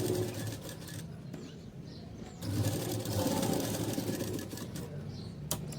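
A sewing machine stitches a blouse lining with a steady mechanical whirr, pausing briefly and then running again at a slightly louder, sustained hum close by.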